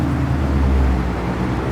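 A loud SS car engine idles at a car meet, a deep steady rumble with strong low throb, close and continuous, with no talk.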